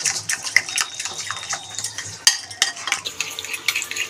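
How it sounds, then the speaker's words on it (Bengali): A spoon mixes mustard oil and salt into a fish spice paste, making wet squelching and clicking strokes in quick irregular succession, close and alone. "এবার চামচ দিয়ে ভালো করে একটা পেস্ট তৈরি করে নেবো ঘেটে।"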